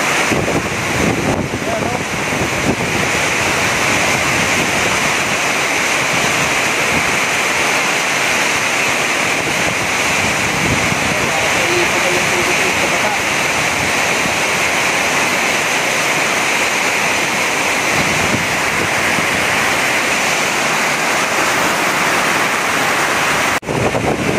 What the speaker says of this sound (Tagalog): Ayan, lakas yung hangin. Ito na kaya kasi bagyong Paulo.